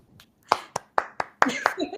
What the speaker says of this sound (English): at the end of every film, I just like to give them all a clap.